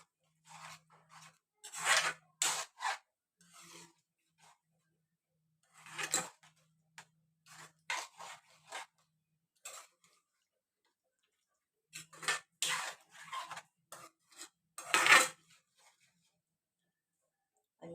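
Spoon stirring dal fry in a pot, scattered clicking scrapes and clinks in short clusters with quiet gaps between them, close and fairly soft.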